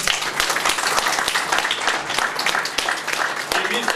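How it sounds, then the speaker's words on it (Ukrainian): Audience applause at the opening of a Polish culture days event in Berdychiv, Ukraine: dense, steady clapping from a hall crowd, loud and continuous throughout with sharp individual claps standing out. "Ваші аплодисменти"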